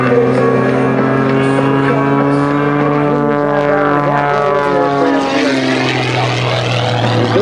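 Iron Eagles aerobatic propeller planes roar overhead at the 2006 Westfield International Airshow, a loud, steady engine drone with strong humming tones that shift in pitch as the aircraft pass close by.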